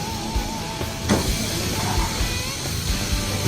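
Bacon-wrapped asparagus sizzles on a grill, a steady close hiss running the whole time with a sharper burst of crackle partway through.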